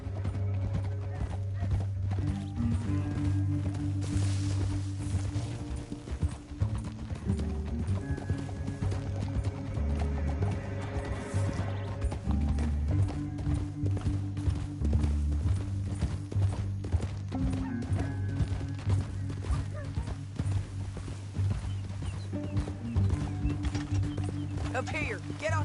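Horses clip-clop at a steady galloping rhythm in the Western video game Red Dead Redemption 2, hoofbeats running continuously under spoken character dialogue and occasional whinnies.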